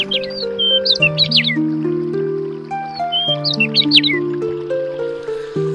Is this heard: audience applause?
no